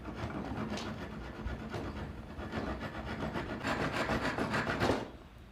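A hand saw cuts through the end of a wooden mallet, making a steady rasping back-and-forth stroke that runs close and fairly loud for several seconds before stopping abruptly.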